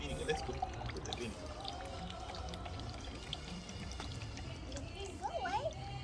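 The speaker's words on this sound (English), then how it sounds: "Let's put the vinegar." Vinegar pours into a homemade toy volcano with a soft, steady trickle and liquid splash, faint beneath people talking nearby.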